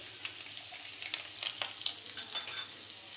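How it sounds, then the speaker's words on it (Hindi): Chopped ginger sizzles and crackles in hot oil in a pan while being stirred, a steady frying hiss punctuated by light scraping and clinking of a utensil. "और इसको 10 सेकंड के लिए अच्छे से भून लेंगे।"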